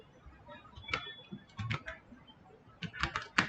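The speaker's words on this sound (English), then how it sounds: "type shutdown here" Keystrokes on a computer keyboard enter a shutdown command on a Windows XP machine, quick irregular taps in short bursts with pauses between, close and fairly quiet.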